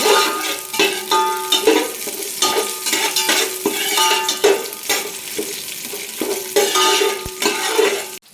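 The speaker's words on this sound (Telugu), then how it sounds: "కొంచెం కలయ పెట్టండి" A spoon scrapes and clanks rhythmically against a metal pot while a biryani rice mixture is stirred, with a soft sizzle underneath and repeated metallic knocks throughout, close and fairly loud.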